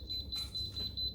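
An Instant Pot being set to low pressure beeps in a rapid, even string of thin, high pulses, faint and close, with a low background hum.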